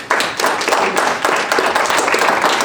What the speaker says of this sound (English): So give him a warm up of applause.